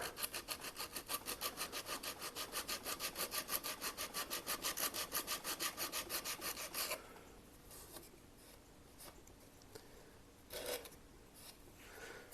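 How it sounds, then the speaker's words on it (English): Rhythmic back-and-forth strokes of a sanding block on wood, fast and even for about seven seconds, then a few quieter scattered rubs. "Trusty sanding block."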